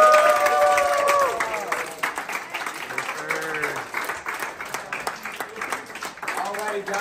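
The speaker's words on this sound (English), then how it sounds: "let's give one last round of applause." An audience at a baking competition claps and cheers, with scattered clapping mixed with whoops and voices calling out over several seconds.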